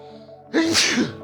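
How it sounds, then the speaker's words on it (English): A single loud sneeze bursts out at close range, a sharp noisy blast that trails off briefly, with quiet background music underneath and no talking. "excuse me, I sneezed."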